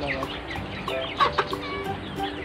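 Several chickens cluck and chatter close by in a steady, overlapping murmur, with a few sharper squawks rising out of the flock.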